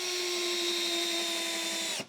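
A power drill whines steadily as it drives long screws into wooden sauna panels, a close continuous motor hum that stops abruptly near the end.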